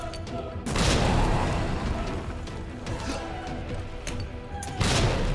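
Grenade blasts and gunfire in the Resident Evil 2 remake, a sharp loud explosion near the start followed by rumbling chaotic combat noise and another heavy burst near the end.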